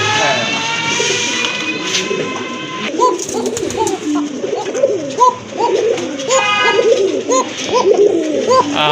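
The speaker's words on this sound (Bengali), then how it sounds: "খুবই ভালো ডাকে, দেখতেই পাচ্ছেন কবুতর কোয়ালিটি মাশাআল্লাহ" Pigeons in a breeder's loft coo in a steady series of close, repeated calls, with brief higher twittering from other birds early on.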